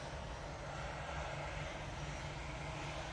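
Propeller aircraft engine at Manchester Airport, a loud, constant broadband drone that holds steady throughout with no change in pitch or level and no voices.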